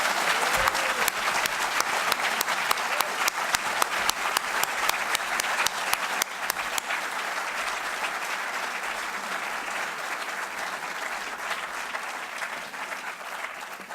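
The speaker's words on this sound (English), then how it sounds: "I think we owe them all a round of applause." An audience applauds after a gubernatorial debate, with dense, sustained clapping that starts strong and gradually thins and softens over about fourteen seconds.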